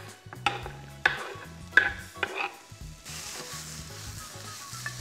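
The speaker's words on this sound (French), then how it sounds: "On fait revenir nos oignons dans un filet d'huile d'olive" Onions sizzling in a drizzle of olive oil in a pan, a steady close hiss broken by several sharp scrapes and stirs of a utensil, then a smoother continuous sizzle.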